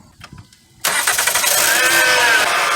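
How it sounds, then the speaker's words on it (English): A Honda Accord 3.5 with a noisy power steering pump cranks briefly and catches, then settles into a loud, steady idle with a rising whine, all close by. "Now I'm gonna be turning on the vehicle"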